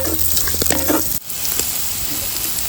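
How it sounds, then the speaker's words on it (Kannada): Onions fry in a pan for a fish sukka, a close, steady sizzle with a few stirring scrapes and clinks in the first second before the frying hiss continues alone. "ಈರುಳ್ಳಿ ಸ್ವಲ್ಪ ಕಂದು ಬಣ್ಣ ಬರೋ ತನಕ ಫ್ರೈ ಮಾಡಿಕೊಳ್ಳುವ."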